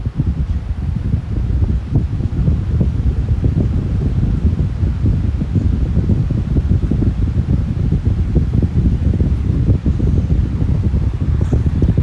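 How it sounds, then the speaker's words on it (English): An 18-inch XCity high velocity fan with a dual ball bearing motor runs at low speed, making a steady, loud, close airy whoosh with a low rumble that stays even throughout, with no talking. "So let's run it and see what it sounds like."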